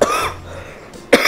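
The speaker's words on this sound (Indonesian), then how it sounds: "sorry, agak batuk." A person coughing, with a short cough at the start and another sharp cough at the end, separated by quiet room tone indoors.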